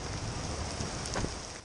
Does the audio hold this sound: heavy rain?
yes